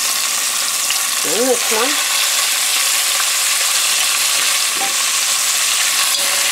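Steak pieces hit a pan heated to 375 degrees, setting off a steady loud sizzle and frying hiss that runs throughout, with brief clatter of the meat going in and a short spoken remark near the start.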